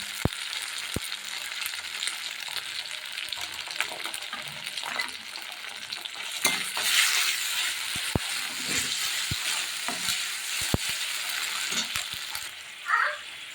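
Ginger garlic paste frying with lote fish in a pan gives a soft, steady sizzle with scattered clicks and stirring scrapes, moderately close, with no talk.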